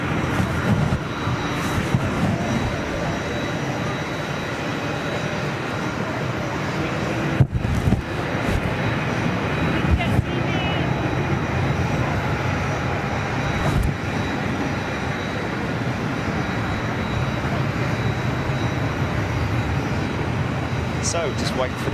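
A jet aircraft engine drones steadily at an airport apron, a broad continuous roar with a faint high whine, while people talk nearby over it.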